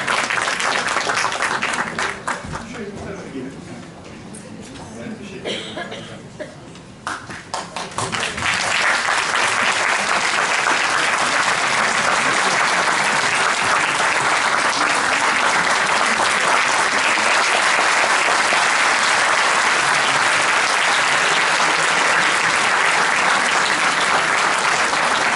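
A concert audience applauds as a composer is welcomed onto the stage: after a thinner patch of scattered claps and speech, sustained loud clapping swells and continues evenly to the end.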